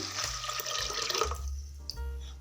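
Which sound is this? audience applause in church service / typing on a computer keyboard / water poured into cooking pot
water poured into cooking pot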